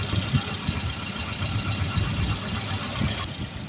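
A Volvo 240 engine idles steadily up close, a continuous low rumble with a slightly uneven, knocking pulse and no voices.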